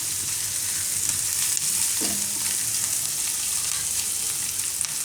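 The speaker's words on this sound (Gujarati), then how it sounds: "તો લસણને આપણે થોડીક વાર આ રીતે માખણમાં શેકાવા દેવાનું." Garlic and ginger sauté in melted butter for a Gujarati drumstick soup, a steady bright sizzle with a brief scrape of stirring partway through, close and continuous with no voices.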